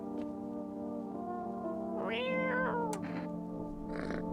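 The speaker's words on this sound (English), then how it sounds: "We're gonna pet the cat again for good luck." A cat meows in the horror video game No I'm Not a Human, one drawn-out rising and falling call followed by shorter chirps, heard clearly over a steady hum of game background tones.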